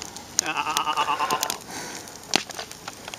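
A voice imitates a goat with a few wavering, bleating calls, close and fairly loud, followed by sharp clicks and crackles.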